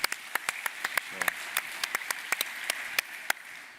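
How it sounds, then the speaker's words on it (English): Scattered clapping from a small crowd at the Pwn2Own Miami hacking contest results, against a steady background hiss, with individual claps standing out sharply rather than a dense roar. "let's give them a round of applause as well"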